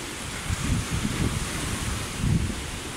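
Sea waves break on the shore during a beach holiday, making a broad, rushing wash with several surges and steady wind noise throughout.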